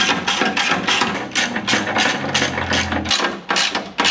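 A ratchet rapidly clicks while loosening skid plate bolts underneath a Toyota 4Runner, a loud, close, evenly paced run of metallic pawl clicks with a low motor-like drone partway through.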